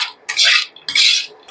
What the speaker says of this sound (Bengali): বাদামটা দিয়ে এরকম ভাবে ভালো করে মিশিয়ে নেব।